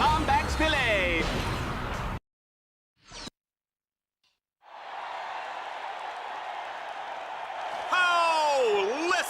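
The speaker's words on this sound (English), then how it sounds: "Listen to that crowd, Juanita!" Arena crowd in Ratchet & Clank: Deadlocked cheers loudly and steadily after a brief silence, a broad roar under bursts of game sound effects and voice.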